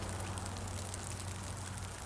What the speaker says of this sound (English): Oh, it's raining right now.